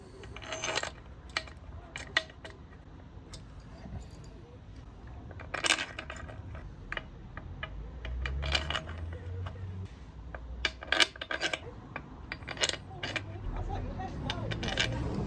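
Large bolts being refitted by hand on a Classic Fiat 500 during a gear selection repair, giving sporadic close metallic clinks, taps and jangles, irregular and moderately loud over a quiet workshop background.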